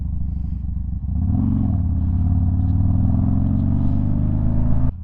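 Steady loud rumble of a Harley-Davidson Dyna motorcycle riding on the road, engine note rising as it pulls away after a second, then holding a constant drone with wind noise until it drops abruptly near the end.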